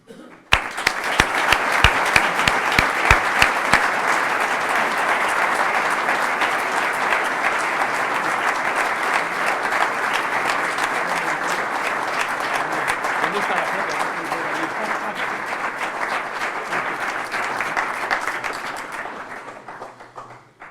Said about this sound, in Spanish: yo os pediría un fuerte aplauso para José María Sánchez García